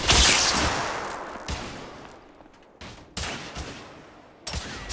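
Suppressive gunfire in the action game The Order: 1886, set in a Victorian-era street fight: a heavy opening volley, then several separate loud bursts of shots with decaying echoes between them, no talking.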